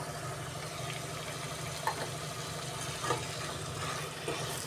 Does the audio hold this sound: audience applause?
no